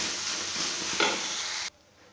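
Fenugreek leaves sizzle and fry in a pan while being stirred, a steady loud hiss with a brief scrape midway, cut off abruptly near the end.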